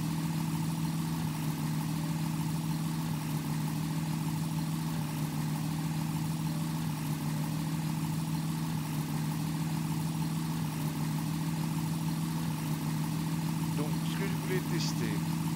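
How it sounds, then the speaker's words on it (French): Engine of a Nord 1101 Ramier aircraft running at reduced power in flight, a steady, loud droning hum with constant vibration throughout and a brief voice near the end. "Je vais baisser le régime moteur parce que là."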